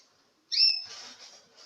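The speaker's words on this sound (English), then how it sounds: "keep tweeting away" Pet birds, a toucan among them, give a single bright whistled chirp up close, followed by a softer trailing warble in an otherwise quiet room.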